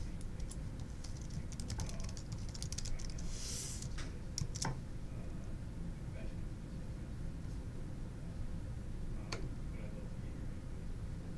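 Typing on a computer keyboard during a live coding session on a React, Express and GraphQL project, scattered key clicks sitting low under a steady background hum with some faint speech-like sound.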